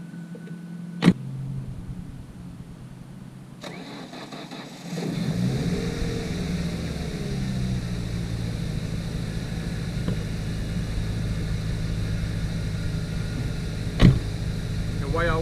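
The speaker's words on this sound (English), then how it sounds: "here goes a cold start for y'all" A cold 5.3-liter LS V8 in a pickup truck cranks and catches after a few seconds, then settles into a steady, loud, rumbling idle with a couple of sharp clicks nearby.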